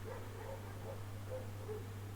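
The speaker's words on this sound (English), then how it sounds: "Dog." A dog gives a few soft, repeated yips and whimpering barks at a distance, fairly faint over a steady low electrical hum, with no talking.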